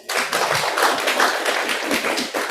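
An audience claps in a dense, sustained round of applause filling the room at an ideological clinic lecture.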